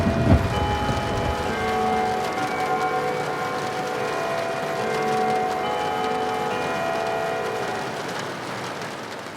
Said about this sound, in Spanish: Sonaron las campanadas del reloj de pared.